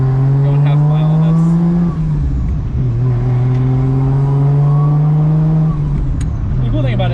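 A Toyota JZX100 is driven under light throttle on a wet road, its engine holding a strong, steady drone that dips briefly and then builds again, close and loud throughout.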